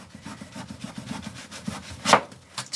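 Rhythmic rasping strokes of a knife sawing back and forth through the tough skin of a calabaza squash, ending in a sharper scrape and a couple of softer strokes.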